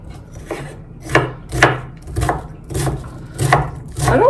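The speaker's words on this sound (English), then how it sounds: "so I'm just going to get to chopping" Knife chopping a white onion on a cutting board, about eight crisp, evenly spaced chops close up with a steady rhythm and no talking.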